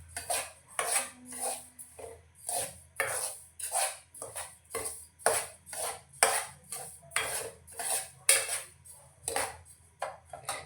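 A dish for a festival offering stirred in a pan on low flame, with rhythmic metallic scrapes and clinks of a spoon against the pan repeating about once a second, close and clear.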